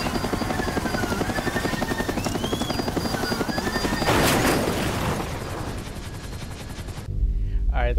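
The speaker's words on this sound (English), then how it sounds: "Oh my god, they're shooting at the helicopter." Rapid bursts of gunfire aimed at a police helicopter in GTA 5, chattering over the steady thump of the rotor, with a denser barrage midway and a cutoff near the end.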